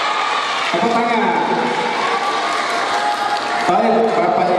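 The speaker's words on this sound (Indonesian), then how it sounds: "Tepuk tangan." Audience applause at a school farewell ceremony, a dense continuous roar of clapping from a large crowd with voices calling out and talking over it throughout.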